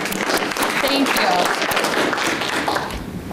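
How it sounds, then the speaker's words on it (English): Audience applause closes out a presentation on big tobacco and vaping, a dense, steady wash of many hands clapping that fills the room and tapers slightly at the end, with a few voices faintly mixed in. "Oh, let's give her a round of applause."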